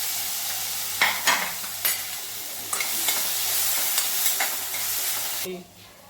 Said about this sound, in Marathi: त्यामध्ये चांगलं परतून घ्यायचं आहे।